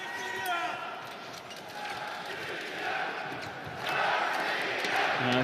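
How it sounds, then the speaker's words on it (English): A crowd at the men's foil team final of the 2015 World Championship in Moscow roars and chants through the arena, a broad, steady swell that rises louder near the end, with a commentator talking over it. "Crowd chanting straight away."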